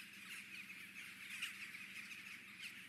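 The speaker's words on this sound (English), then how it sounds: "That's a lot of birds." Birds squawk faintly and continuously in the video game Yugo: The Non-Game, a thin, steady chatter of calls with a few sharper peaks.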